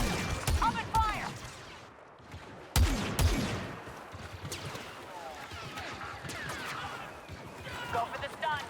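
Blaster fire in Star Wars Battlefront II sounds as sharp zapping bursts and shots at intervals amid battle noise, with voices speaking over the action.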